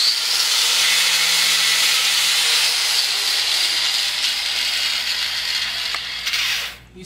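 Old paint being ground off a brake caliper, a loud steady abrasive hiss that holds for most of the stretch before cutting out abruptly near the end.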